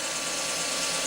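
A power drill boring into the ribbed heatsink of a Yaesu FTM-400 radio, a short continuous high whine of steady pitch, close and fairly loud with no voices.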